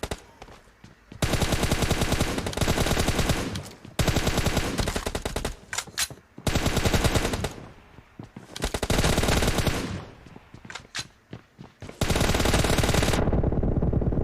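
Sustained bursts of automatic gunfire in the shooter game PUBG Mobile, loud and close, with long rapid-fire volleys broken by short pauses and a few single shots.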